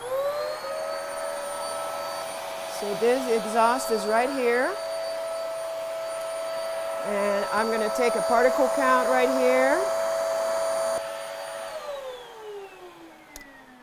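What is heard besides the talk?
vacuum cleaner running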